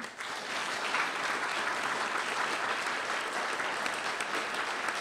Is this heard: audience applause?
yes